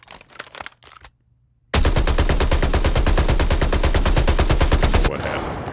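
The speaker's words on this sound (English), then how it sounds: "Oh, it's the AK." An AK rifle fires in Call of Duty Mobile, first in a few short bursts and then in a long, loud, rapid automatic stream lasting several seconds that stops abruptly.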